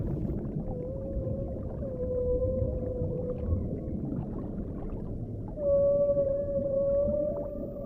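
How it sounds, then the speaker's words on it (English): Humpback whale song rises in long, tonal moans and sliding wails over a dense underwater rumble, with one phrase swelling louder near the end; no voices heard. "The humpback song is a powerful form of communication."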